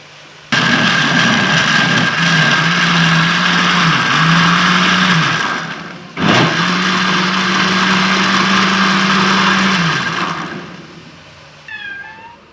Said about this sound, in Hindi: तो अब मैं इनको ग्राइंड करती हूँ